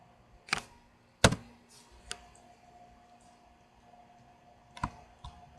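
Sharp, close computer mouse clicks come from a desk during low-poly 3D hand modelling: a few crisp clicks spaced irregularly over a quiet room with a faint electrical hum and no voices.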